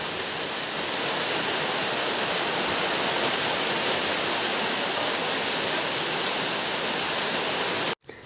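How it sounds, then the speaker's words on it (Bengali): Heavy monsoon rain pours down in a dense, loud, unbroken roar of drops striking surfaces, continuing steadily before cutting off abruptly near the end. "খুব জোরে জোরে বৃষ্টি হচ্ছে।"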